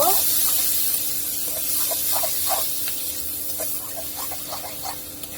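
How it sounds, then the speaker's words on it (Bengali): Steady sizzling hiss of onion and garlic frying in hot oil, with faint scattered crackles and a low background hum throughout. "পেঁয়াজ রসুনটা ভেজে নিব"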